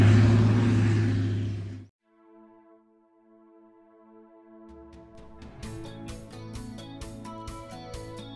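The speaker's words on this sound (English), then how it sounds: "the tractor loading hay into the grinder in the background" A tractor loads hay into a grinder on a farm. A loud roar cuts off abruptly, leaving a low steady engine hum, then a series of rattling, clanking knocks builds up in the background.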